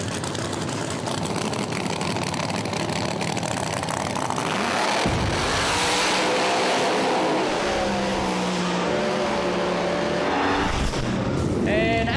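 Street Outlaws No Prep Kings drag race cars in Michigan roar down the strip, a loud sustained engine blast that swells midway as the cars launch and run, with an announcer talking over it.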